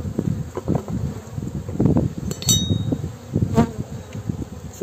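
Honeybees buzzing around an open beehive during an inspection, a close, busy hum of many bees with individual bees flying past the microphone, plus a few faint clicks.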